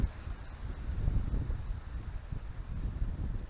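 Low, gusty wind rumbles and buffets against the microphone, rising and falling irregularly with no voices.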